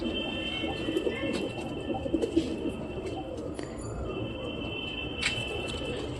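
Giribaj pigeons coo in their coops, giving soft, repeated, low burbling calls at close range over a faint, steady background with occasional higher chirps.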